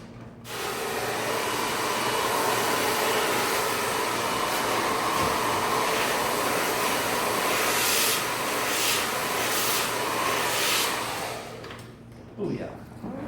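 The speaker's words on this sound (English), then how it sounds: "we will blow dry." A hair dryer blows steadily for about eleven seconds as a beard is dried at a barber's grooming station. The airflow is loud and close, then it shuts off and a few faint handling sounds follow.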